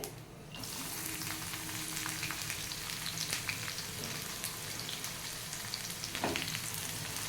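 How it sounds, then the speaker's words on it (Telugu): A dense, continuous sizzle of onion and garlic frying in oil with dried red chilies, cumin and mustard seeds, loud and close, with a faint clink near the end and no voices. "ఇవంతా కూడా ఆయిల్లో చక్కగా వేగనిద్దాము"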